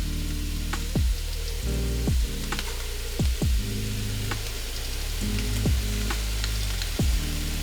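Garlic sizzles in a frying pan on the stove, a loud, steady crackling fry close up with a few tonal sweeps as the pan is stirred, no voices.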